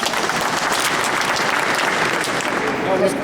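A crowd at a meeting on Edmonton brokers and drivers gives a speaker loud, sustained, evenly dense clapping that fills the room.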